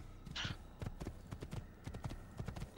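Galloping hooves of a horse in a video game, quick rhythmic clip-clop beats repeating steadily at close range, with a brief breathy snort near the start.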